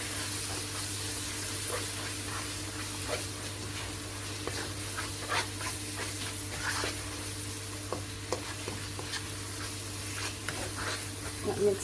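Onions with turmeric and chili powder being stirred and fried in a pan for chicken korma, a low continuous sizzle with soft scraping strokes of the spoon at irregular intervals.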